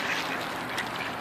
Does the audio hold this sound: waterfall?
no